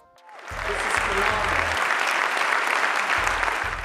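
Audience applause at an Apple product event, a broad, even wash of many people clapping that swells in quickly and holds steady, with low rumbling beats underneath.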